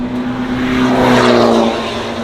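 A Toyota GR car's engine drones steadily with a rising, whining tone as it picks up speed on a hot lap at the Mandalika circuit, loud and close throughout.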